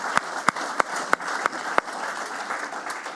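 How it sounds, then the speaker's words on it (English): Audience applause at an interview event, a steady wash of clapping with several sharp individual claps standing out at regular intervals. "if you're going to applaud anybody here tonight, applaud Nigel Grange."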